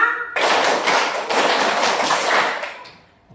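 A classroom group bursts into a rapid, continuous run of hand claps for a patterned-clapping routine, close and loud for nearly three seconds before tapering off into quiet.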